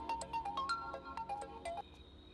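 A phone ringtone plays a quick, melodic pattern of short electronic notes, fairly faint and steady, with no talking over it.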